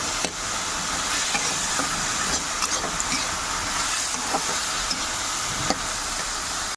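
Vegetables for chow mein frying in a pan give a steady, close sizzle and hiss, with a few light scraping knocks from stirring now and then and no talking.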